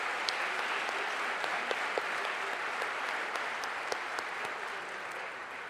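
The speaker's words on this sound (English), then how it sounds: "a round of applause for almost the whole stage party" Commencement audience applauding the stage party at Stevenson University's winter graduation, a steady wash of many hands clapping in a large hall, moderately distant and sustained without a break.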